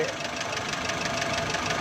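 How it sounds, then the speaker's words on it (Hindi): A car engine idling on CNG gas after its gas mixer spring has been adjusted, a steady, even mechanical hum with a fast ticking pulse, close and continuous, with no voices. "ये देखें अभी बिल्कुल प्रॉपर इंजन में खामोश हो गया है।"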